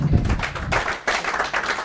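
Audience applause in a university business school lecture hall, honoring a professor at a guest lecture event; a short burst of dense, steady clapping fills the room, with a thump near the start and a brief dip before the clapping swells again.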